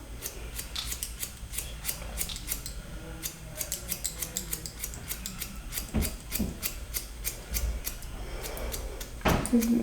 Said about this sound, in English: I'm just gonna go in and point cut it